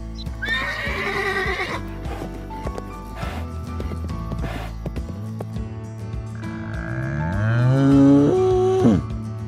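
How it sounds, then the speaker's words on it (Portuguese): A farm horse whinnies loudly with a shaking, falling call at the start, followed by quieter rumbles and another rising, wavering neigh near the end, with no talking. "O cavalo é usado no transporte de pessoas, cargas e no trabalho com o gado."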